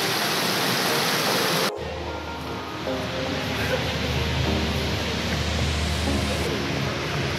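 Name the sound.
Cheonjiyeon waterfall flowing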